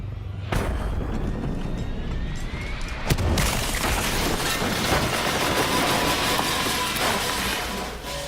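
A crashing plane explodes in Black Ops III: a sudden heavy roar that holds at full force, with a second sharp boom partway through and a dense rumbling wash continuing to the end.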